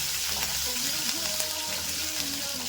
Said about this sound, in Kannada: ಒಂಚೂರು ಫ್ರೈ ಮಾಡ್ಕೊಂಡ್ಬಿಡೋಣ.